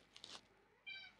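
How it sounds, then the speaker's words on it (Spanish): A domestic cat meows faintly, one short, soft call alone in a quiet room. "¿Qué le pasa a mi gato?"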